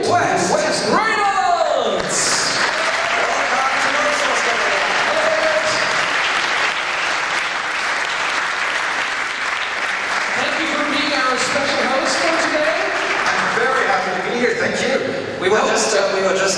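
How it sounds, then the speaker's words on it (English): Sustained, loud applause from a convention panel audience greeting the MC at a Star Wars fan reunion event, with cheers and whoops mixed into the dense clapping throughout. "please give a huge round of applause for our MC today, Mr. David West Reynolds!"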